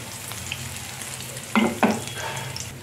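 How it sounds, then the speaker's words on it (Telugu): Curry leaves fry in hot oil for lemon pickle, giving a steady, close crackling sizzle, with two sharp stirring scrapes of a spoon against the pan partway through. "కరివేపాకుని బాగా ఫ్రై అవ్వనివ్వాలి"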